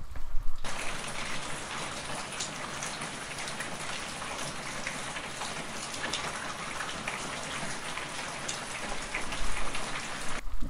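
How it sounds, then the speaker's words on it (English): Steady rain falls in a dense, even wash of drops hitting surfaces, close and continuous for about ten seconds with no voices. "I'll just let you have some rain ASMR right now."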